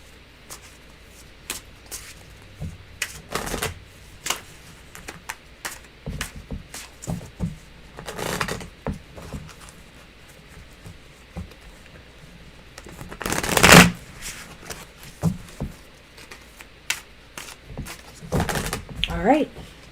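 Soft papery riffling and shuffling of tarot cards in scattered bursts, with one louder flurry midway, while a person talks quietly in between.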